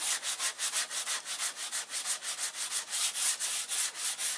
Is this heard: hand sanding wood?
yes